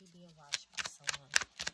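Tarot shadow cards being shuffled in quick bursts of crisp riffling snaps, about five flicks in under two seconds, close and fairly soft, with a voice speaking underneath at the start.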